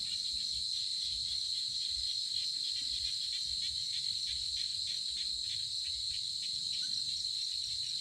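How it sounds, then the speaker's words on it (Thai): Steady chorus of frogs and insects calling at dusk after rain in rural Thailand, a dense continuous high trilling drone filling the air with no voices. "มานั่งฟังเสียงกบ เสียงเขียดร้อง"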